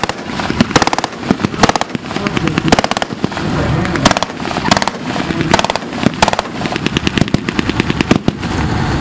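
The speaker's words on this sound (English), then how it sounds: "Soviet artillery" Loud, dense bursts of simulated Soviet artillery and gunfire at a tank battle re-enactment, with rapid overlapping bangs and crackling volleys filling the whole stretch and no quiet gaps.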